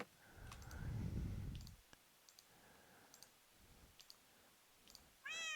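Cats meow in the video game Minecraft, with a long low caterwaul early on, scattered clicks and soft mews, then a sharp rising meow near the end, heard faintly with no talk.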